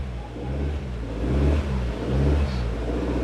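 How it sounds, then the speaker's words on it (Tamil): A manual car's engine hums low and steady, then rises and swells twice as it is revved gently while the clutch is eased out, heard close and continuous. "ஃபுல்லாக ஆக்சிலேட்டர் கிளச் ரிலீஸ் பண்ணி விட்டு ட்ரை பண்ணுறோம்"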